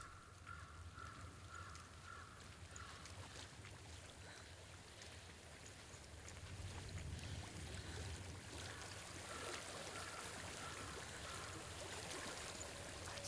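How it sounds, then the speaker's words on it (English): Flowing stream in the video game Hellblade: Senua's Sacrifice, a steady broadband rush of water that swells louder midway, with a faint bird call over it and no voices. "I hear water."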